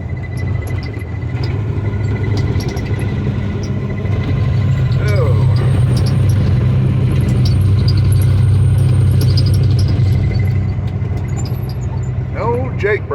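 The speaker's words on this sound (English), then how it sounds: "Jake brake." An old Western Star truck rolls along with a loud, continuous, low engine drone and a deep rumbling brake roar heard from inside the cab, with voices talking over it.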